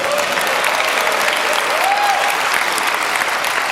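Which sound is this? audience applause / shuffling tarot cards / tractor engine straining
audience applause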